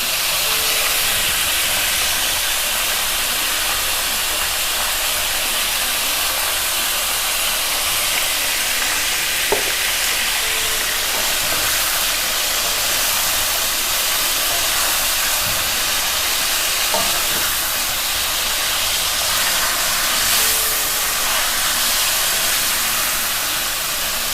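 Steady, loud sizzling and hissing of meat frying in a pan with garlic-ginger paste, continuous throughout with a few faint clinks and no talking.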